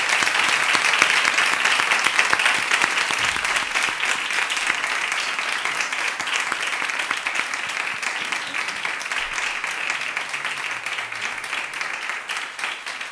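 Sustained audience applause for a writer at a Spanish book presentation, a dense, steady wash of many hands clapping for the full length without a break, with no talk over it.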